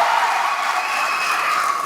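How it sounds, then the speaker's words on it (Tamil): Steady crowd applause and cheering at a DMK election rally in Coimbatore, a dense continuous roar filling a hall with no gaps. "இதே ஆரவாரம்"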